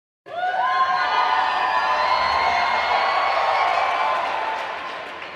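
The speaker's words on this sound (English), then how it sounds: "please give a warm, sustained round of applause for Little Bill" A cartoon audience erupts in a sudden, sustained roar of cheering and clapping with high children's shouts, holding steady before slowly fading.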